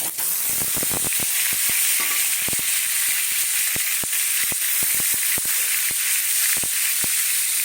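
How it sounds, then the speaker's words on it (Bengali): Halved pointed gourd (potol) fries in hot oil, a loud, continuous close sizzle punctuated by frequent crackling pops throughout, with no voices. "প্রথমে পটলটাকে ভেজে নেব"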